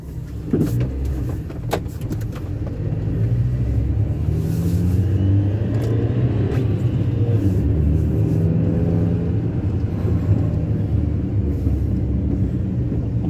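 A 2005 Peugeot 307 S CC with its rear exhaust back box deleted, driving along with a steady, loud low rumble of engine and exhaust throughout, with road noise and a few clicks and knocks.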